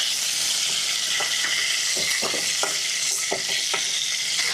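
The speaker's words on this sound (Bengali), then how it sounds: "হালকা করেই ভাজবো, বেশি ভাজা করবো না।" Small mixed river fish fry lightly in oil, giving a steady close sizzle punctuated by sharp clinks and scrapes of stirring, with no talking.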